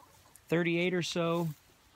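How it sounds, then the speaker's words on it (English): Two drawn-out, harmonic clucking calls from a nearby chicken in a flock of Barred Rocks and New Hampshire Reds, in quick succession, otherwise quiet. "So there's all the chickens wandering around"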